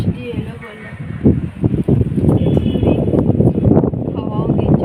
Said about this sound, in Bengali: হাওয়াও দিচ্ছে প্রচুর